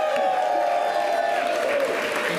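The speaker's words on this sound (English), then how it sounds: "Give yourselves a round of applause" Crowd at a rally for the New York City Census 2020 count applauds in a dense, sustained wash of clapping, with a voice or tone rising over it.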